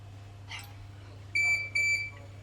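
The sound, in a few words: Kerong handset beep signalling mode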